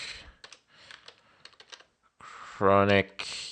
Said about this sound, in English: Type in mkdir and then type in USB